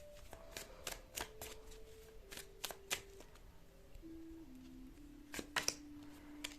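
Tarot cards are shuffled by hand in a quick series of crisp riffles and slaps, some louder than others, with soft tonal music sustained underneath.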